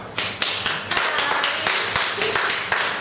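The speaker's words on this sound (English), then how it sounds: "Clap." A studio audience claps in a steady, rhythmic series of sharp claps on a Junior MasterChef set, fairly close and unbroken for the whole stretch, with no talking over it.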